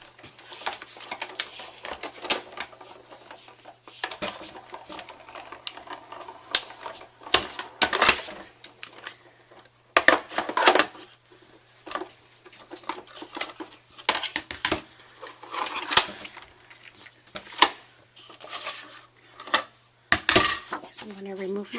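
A die-cutting machine presses paper through an extended zipper die, giving irregular clicks, clacks and rattling knocks spread over about twenty seconds, fairly quiet and close, with no talk.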